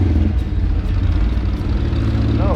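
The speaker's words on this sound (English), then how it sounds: "I can hear his V-twin chugging along." A V-twin motorcycle engine chugs steadily with a deep, low throb, heard close and continuous while riding along a street in Tarija, with a brief voice near the end.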